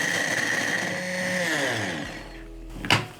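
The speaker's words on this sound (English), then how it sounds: "Then I'm going to grind my cashew into a powder." An electric grinder whirs loudly as cashews are ground into powder, with a high motor whine that spins down to a stop and is followed by a short clatter.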